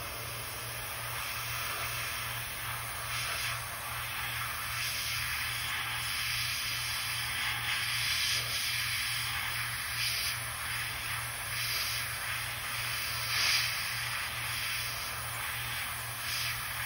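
A spray can lays down a wetter coat of color-shift paint, a steady close hiss running continuously without pause over a faint low hum.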